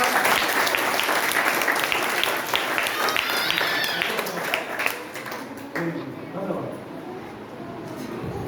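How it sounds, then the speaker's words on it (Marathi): Sustained applause from a school parenting workshop audience fills the room, steady clapping for most of the stretch before thinning out near the end, with faint voices underneath. "चला परत एकदा टाळ्या जोरा."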